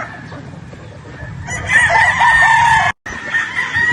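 A Sweater Boston gamecock rooster crows loudly and close, one drawn-out call standing above farmyard background noise, with brief clucking around it.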